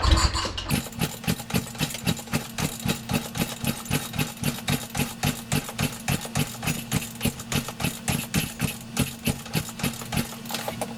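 A Power Wheels Jeep fitted with a swapped motorcycle engine catches and runs, settling into a fast, even idle chug with regular rapid pulses, close and steady after a brief startup burst.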